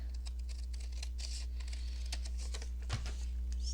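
Boiled paper being cut into smaller pieces with scissors, a quick run of light close snips and clicks over a steady low hum.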